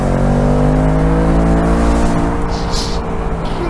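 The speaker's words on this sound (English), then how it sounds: "Turning it off, I'm gonna floor it." 2024 Ford Mustang 5.0 V8 convertible accelerating at full throttle in its quiet exhaust mode, a loud sustained engine roar with rising pitch that stays strong throughout, close by and alone.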